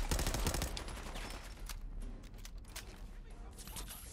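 Video game gunfire: a burst of loud rapid shots at the start, then scattered sharper shots and echoes fading under a continuing rumble, with a voice talking over part of it.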